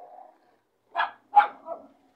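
Dogs in a pack bark and scuffle in a short outburst: a low growl, then two sharp nearby barks and a trailing yelp, with silence between.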